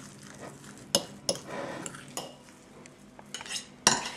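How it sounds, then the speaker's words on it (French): Herbs and spices stirred into potato purée for Japanese korokke with a utensil, producing soft scraping and mixing noises broken by several sharp clinks against the bowl. "Et vous mélangez."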